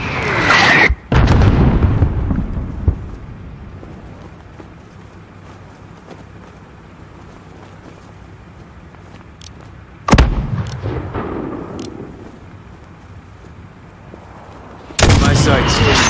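Mortar blasts in a Call of Duty Modern Warfare firefight: a sharp loud bang opens, a low rumbling background follows, then another sudden explosion hits midway and a heavy blast closes out the stretch.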